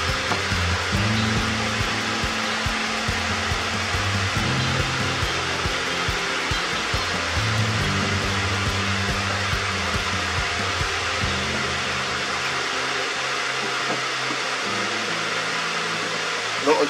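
A heat gun blows steadily while heating the headlight of a modified Transit Connect MK1 to break its seal. The whirring hiss is close and continuous for the whole stretch, with slight shifts in pitch.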